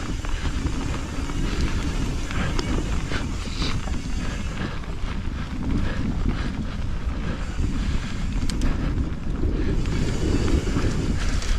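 A strong headwind buffets a moving rider on a local lap, a loud, continuous rumbling roar of wind noise across the microphone throughout, with no talking.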